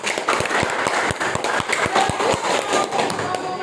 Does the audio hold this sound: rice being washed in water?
no